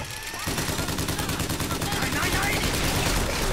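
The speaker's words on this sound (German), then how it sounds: "Jetzt geht meine Gatling-Gun gleich los!" A Gatling gun in the video game BioShock Infinite spins up and fires a loud, continuous rapid stream of shots that keeps going to the end, with a voice briefly audible over it.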